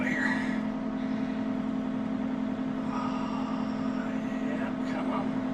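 An old vehicle's engine runs with a steady, droning hum as it is driven out along an overgrown old road, constant and close from start to finish.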